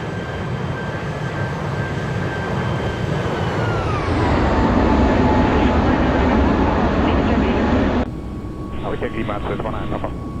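Airbus A321neo in a flight simulator game taking off and climbing, a loud steady jet engine roar with a whine that drops in pitch midway, then a shift to a quieter cabin-like drone near the end, with cockpit voices heard over it.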